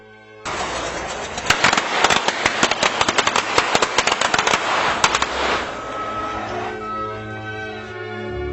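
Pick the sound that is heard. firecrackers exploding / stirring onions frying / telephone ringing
firecrackers exploding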